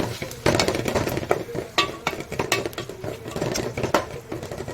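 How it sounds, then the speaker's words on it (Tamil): Ginger garlic paste with garam masala and turmeric being mixed in a pan for a meal maker potato kurma, heard as steady clinks and scraping of a utensil against the pan, close and continuous with no talk. "இப்போ ரெண்டையும் ஒன்றா மிக்ஸ் பண்ணி வச்சுக்கோங்க."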